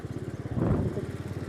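A scooter engine runs steadily with a rhythmic putter, swelling a little louder midway before settling back to its even idle-like throb.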